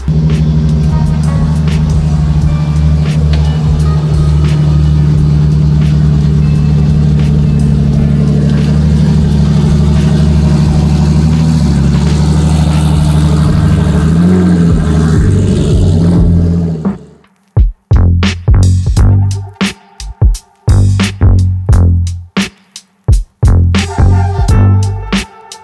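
A Nissan Z with a swapped GT-R engine drones loudly and steadily at high revs on a dyno, then cuts to a series of sharp, choppy revving bursts with brief gaps between them.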